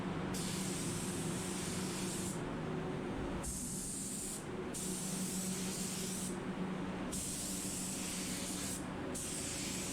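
A spray gun lays down a second coat of tinted clear candy paint across a panel: a loud, close, continuous hiss in long bursts, each broken by short pauses as the trigger releases.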